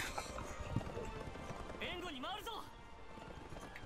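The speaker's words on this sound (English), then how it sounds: "Nothing can stop this horse" Galloping horse hooves pound steadily in Berserk and the Band of the Hawk, with a voice talking over the dense, busy rush of the ride.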